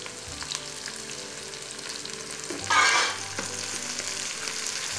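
Ponnanganni greens drop into hot mustard seed tempering, and a loud burst of sizzling flares up partway through, then settles into a steady fry with stirring.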